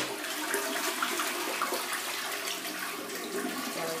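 Toilet in Bali flushing, a steady rush of water swirling down the drain, close and moderately loud, with no talk over it.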